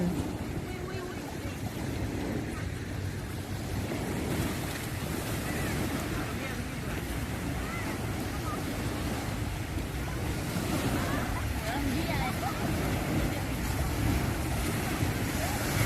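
Sea waves roll and wash ashore at Samila Beach in Songkhla around sunset, a continuous roar of surf mixed with strong wind buffeting the microphone, steady and fairly loud throughout.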